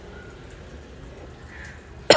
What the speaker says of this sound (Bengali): কাশিটা কিন্তু আমার এখনো কমেনি।